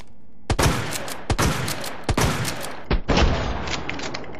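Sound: shotgun firing in Resident Evil 2 Remake video game

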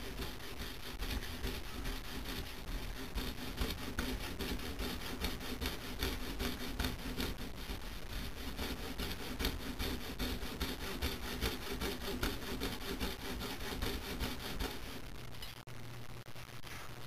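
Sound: sawing wood to trim a knife handle

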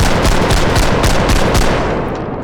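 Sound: machine gun fire in Bodycam video game

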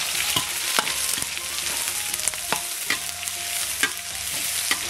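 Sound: scallion, ginger and salt stir-frying in hot oil in a wok

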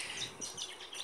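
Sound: birds chirping outdoors

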